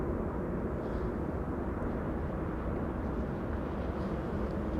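An airliner at an airport during a spotting session gives off a steady, distant low rumble of jet engines, continuous and fairly faint, with no voices.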